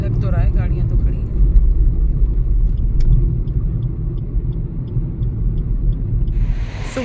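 A parked car's engine idles at a highway stop on a Bangalore to Udupi road trip, giving a close, steady low rumble throughout, with faint voices now and then.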